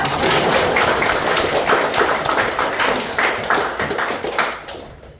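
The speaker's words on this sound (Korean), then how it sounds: "이런데 박수 한번 쳐" An audience claps at a graduation ceremony for horse culture interpreters in Jeju, with dense, close applause that holds steady and then quickly tapers off near the end.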